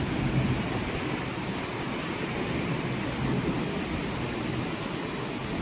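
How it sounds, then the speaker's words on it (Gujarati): Heavy rain pours steadily through a thunderstorm in Surat, with strong wind adding a broad, continuous roar that stays dense and even throughout, with no distinct close thunderclap standing out. "એટલી વીજળી અને વરસાદ થઈ રહ્યો છે"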